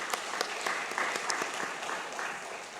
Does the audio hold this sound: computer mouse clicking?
no